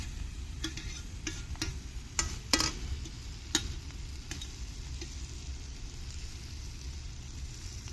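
Mashed roasted eggplant for Khandeshi bharit stirred in a sizzling pan, a low frying hiss broken by several sharp scraping clicks of a spoon against the pan.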